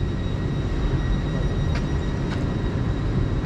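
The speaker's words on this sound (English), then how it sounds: "going out now is the LNER service to London King's Cross from Aberdeen" An LNER train from Aberdeen to London King's Cross, unit 800 113, departs the station with a loud continuous rumbling roar and a faint high electric whine, close by on the platform, with no speech.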